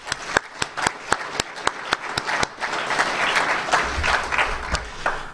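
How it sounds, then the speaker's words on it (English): A seminar audience breaks into applause, starting with a few sharp, evenly spaced claps that quickly swell into a full, dense round of clapping from the crowd. "Let's give Healthy for Life a round of applause"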